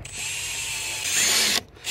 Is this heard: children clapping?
no